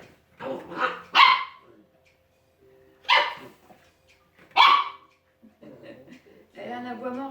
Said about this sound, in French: Elle a un aboiement ridicule